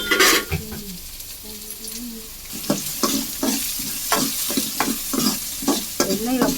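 Finely chopped onions hit hot oil and are stirred, producing a busy, close sizzle with a regular run of spatula scrapes and knocks against the pan, and a brief voice at the start.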